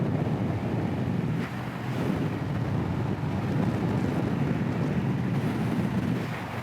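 Heavy wind buffeting the microphone while riding a 2025 Scout Classic 60 motorcycle into a roughly 20-something mph headwind at highway speed, a constant loud rushing roar with no speech.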